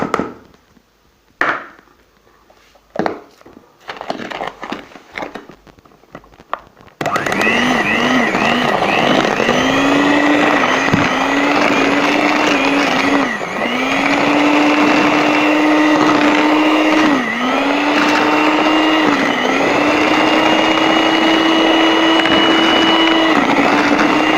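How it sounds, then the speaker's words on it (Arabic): An electric mixer beats eggs and sugar for a cake: a few brief knocks and handling sounds give way to a loud, continuous motor whine with slight pitch dips as the beaters work the batter. "هننزل كده بالسكر وهنضربه تاني برضو"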